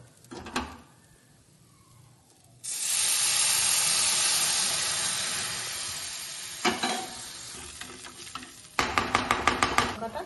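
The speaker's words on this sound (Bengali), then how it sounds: "এবারে আমি গরম জলটা দিয়ে দেবো।" Hot water poured into a pot of frying rice for egg pulao, bursting into a loud sustained sizzle and hiss of steam that slowly fades, followed by a few sharp clinks and scraping stirs near the end.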